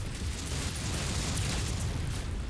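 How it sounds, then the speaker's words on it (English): Ammo explosion in the MechWarrior 5 video game, a dense, steady roaring blast wash lasting a couple of seconds at moderate level, with no talk over it. "Ammo explosion?"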